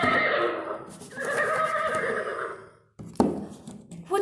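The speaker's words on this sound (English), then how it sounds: "Yes, it's a horse." A horse gives a loud, close whinny that rises and falls for a few seconds. After a brief silence, a second, shorter neigh bursts in.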